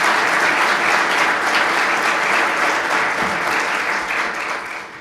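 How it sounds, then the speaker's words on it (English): Steady, loud applause from an audience at a city State of the City address, continuous clapping that holds for several seconds before tapering slightly at the end. "So give him a round of applause."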